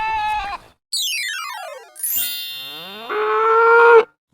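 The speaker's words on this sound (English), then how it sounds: "Cow," A cow moos loudly and close up, giving several long, drawn-out calls with brief gaps between them.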